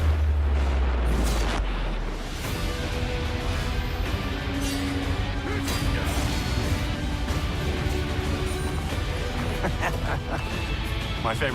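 Large explosion in an open blast range: a deep booming blast at the start, then a long roaring, rumbling wash of debris and noise, loud and sustained.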